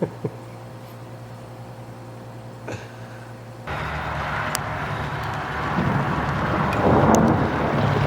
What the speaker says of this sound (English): I could hear thunder, so I came out because I haven't been in a summer thunderstorm for a long time